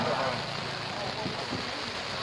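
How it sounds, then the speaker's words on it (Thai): Heavy rain pours steadily during an outdoor seven-a-side football match, a constant broad hiss heard from a distance under faint talk. "โอ้ฝนค่อนข้างแรงครับ"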